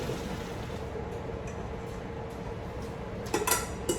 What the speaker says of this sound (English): I'm going to dump my noodles in my colander over here in my sink.